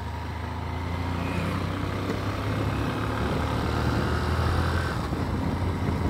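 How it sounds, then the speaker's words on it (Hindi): A motorbike engine keeps running after being started, a steady rough rumble that holds constant throughout with no voices. "चलो भाई यार गाड़ी स्टार्ट हो चुकी है"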